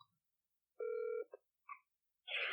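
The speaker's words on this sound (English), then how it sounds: "Looks like it's only ringing." An outgoing phone call produces a ringback tone, heard as one steady, faint electronic tone burst with a short click, followed by brief tonal blips and the start of a recorded greeting.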